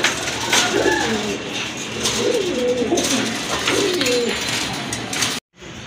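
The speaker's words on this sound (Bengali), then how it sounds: "আরেক জোড়া কবুতর, রসগোল্লা কবুতর" Several cooing phrases come from a pair of Rasgolla pigeons in a coffee-coloured marking, held among other pigeons for sale. The rolling, repeated calls sound close and clear over background noise, then cut off abruptly near the end.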